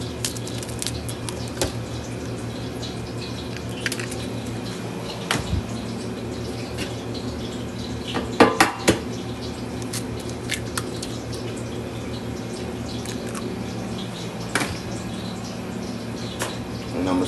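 Eggs and heavy cream stirred together in a pan for Jamaican fried chicken batter: soft, irregular wet squishes and light taps over a steady low hum, with a brief cluster of louder clinks partway through.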